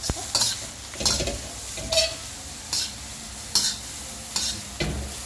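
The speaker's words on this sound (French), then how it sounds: "On casse les gros morceaux d'omelette" A spatula scrapes through a hot wok in about seven distinct strokes, breaking up chunks of omelette as shrimp fried rice cooks. A steady sizzle fills the gaps between the rhythmic strokes.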